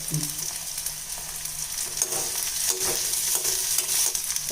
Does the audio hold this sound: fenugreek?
yes